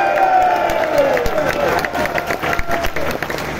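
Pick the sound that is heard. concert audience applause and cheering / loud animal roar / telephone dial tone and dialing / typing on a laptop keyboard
concert audience applause and cheering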